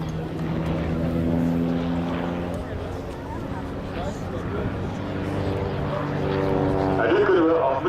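Marchetti SF-260 propeller aircraft fly in formation with a steady droning engine hum, fairly distant, while someone talks over it throughout.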